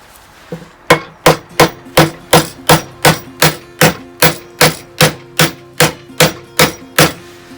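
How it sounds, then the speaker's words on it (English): Steady series of about fifteen sharp hammer blows driving a part through an MGB's front suspension, evenly spaced and close, each strike ringing briefly with a metallic tone, no talk. "let me get a hammer and I'm going to try and hammer it through"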